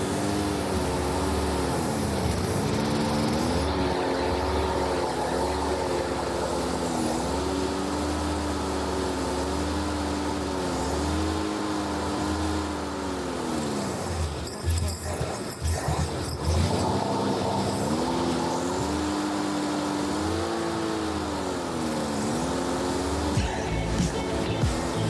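A 1978 Chevrolet Corvette V8, started after years of sitting with a gummed-up carburetor, runs close and loud for about 25 seconds, its pitch rising and falling as it revs unevenly, with a brief stumble midway.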